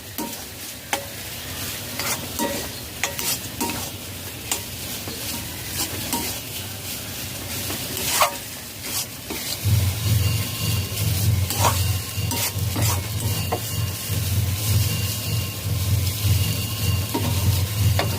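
A banana flower mixture with ground garam masala is stirred and turned in a pan, with a spoon scraping in repeated strokes over a steady sizzle that grows louder and fuller partway through.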